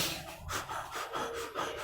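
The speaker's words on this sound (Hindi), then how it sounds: "नॉर्मली हम लोग इसको कहते हैं हाँफने लगते हैं" Quick, repeated panting breaths demonstrated by a person describing the rapid breathing of altitude sickness, short huffing bursts in a steady rhythm, close and alone with no talk.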